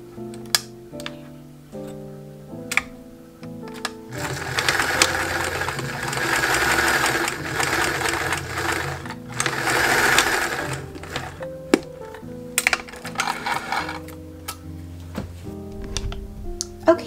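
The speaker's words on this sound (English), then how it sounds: "I'm just going to stitch to close that gap" Sewing machine stitching a seam closed on a vintage-style dress, running in two steady whirring bursts of several seconds each, with short taps and pauses of machine handling before, between and after.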